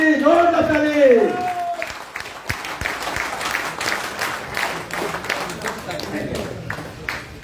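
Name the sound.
audience applause welcoming Bhushan Kumar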